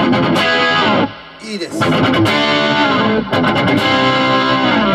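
Distorted FUJIGEN EEL-FM electric guitar playing dense, loud crunchy riffs with a brief drop near the second mark, as a voice speaks briefly.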